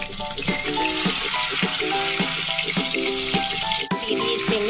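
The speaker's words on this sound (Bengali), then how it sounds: "এই দেখুন তেলটা দেওয়ার পরে আমি এর মধ্যে দিয়ে দেবো মাছগুলো, ম্যারিনেট করে রেখেছিলাম যে মাছগুলো।" Marinated snakehead fish pieces sizzle and crackle steadily in hot oil, a continuous frying hiss close up, with faint music-like tones running underneath.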